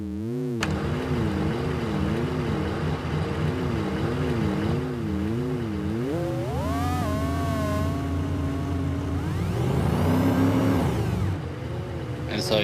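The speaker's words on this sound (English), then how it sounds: "you kind of have a weird spaceship engine, weird flying thing going on right there" A synthesized spaceship engine made with Krotos Igniter hums with a warbling, wavering tone, then sweeps upward in pitch as it speeds up and swells into a loud, whooshing roar before easing off.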